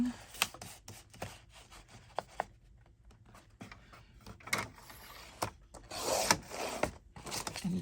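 Paper signatures for a grungy pink journal cut to length with tools, giving scattered close rubbing, scraping and snipping sounds with sharp brief clicks and a denser burst of cutting near the end, with no talk.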